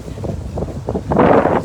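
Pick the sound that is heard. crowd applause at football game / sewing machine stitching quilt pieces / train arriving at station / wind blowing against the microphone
wind blowing against the microphone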